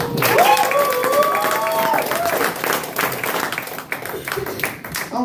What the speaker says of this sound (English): give a round of applause for your host